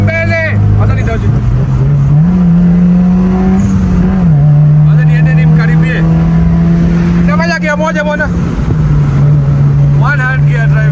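Engine of a manual car droning loudly inside the cabin, its pitch rising and settling through gear changes, with people talking and shouting over the constant hum.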